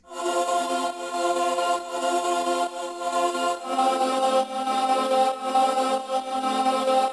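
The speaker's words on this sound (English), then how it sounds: "Which, I mean, beautiful atmosphere, boys choir" A boys choir atmosphere layer for a melodic dubstep track: sustained, harmonically rich voices swell and hold in long chords, changing once partway through. It plays alone and evenly loud throughout.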